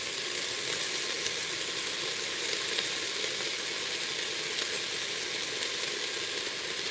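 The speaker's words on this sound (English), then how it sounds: "You want it to get like a good sear." Beef chunks for stew sear in a hot pan, giving a loud, dense, unbroken sizzle that holds steady throughout with no voices over it.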